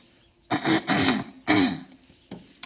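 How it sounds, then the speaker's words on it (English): A person coughs and clears their throat in several harsh bursts, close and fairly loud, with short pauses between them. "I have a little bit of a cough."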